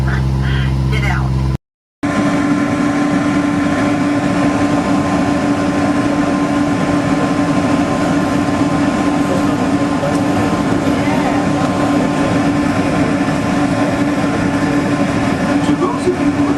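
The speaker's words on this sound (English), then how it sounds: "welcome aboard the Disneyland Monorail." Disneyland Monorail in motion, a steady loud rumble and hum of the running train with a constant tonal whine; a short gap of silence near the start, then continuous ride noise with speech over it.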